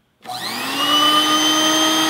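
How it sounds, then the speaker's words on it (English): A vacuum cleaner attachment from the Mega Man cartoon switches on and settles into a loud, steady, whining suction hum with no talk. "he gave Roll a vacuum attachment"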